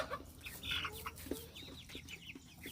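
Cornish meat chickens on a homestead cluck and chirp close by in short, irregular bursts over a quiet outdoor background.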